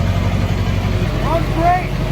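A modified car on an OEM chassis idles close by with a steady low engine rumble, while a person talks over it.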